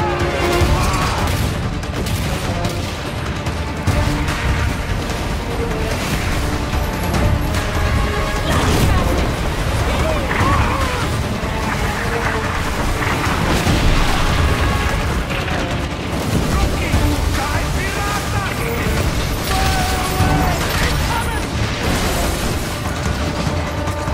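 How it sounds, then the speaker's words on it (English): Naval battle in the Skull and Bones video game, with ships sinking: a dense, continuous wall of booming cannon fire, crashes and rumbling destruction that stays loud throughout, with no quiet gaps. "The enemy strikes first. The first ship goes down,"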